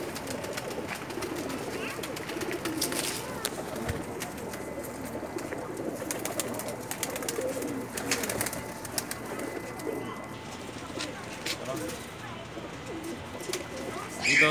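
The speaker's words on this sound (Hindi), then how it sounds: "कैसे लगे आपको ये लाखे कबूतर?" Lakha pigeons, a breed sent from Lahore, coo steadily in a loft, their soft overlapping calls running throughout under a busy background of other bird chatter.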